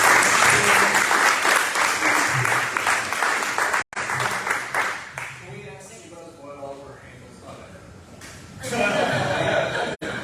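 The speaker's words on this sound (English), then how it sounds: "let's give a round of applause" A studio audience applauds loudly on a morning show, dense clapping with some laughter that dips as a speaker talks midway, then swells again near the end.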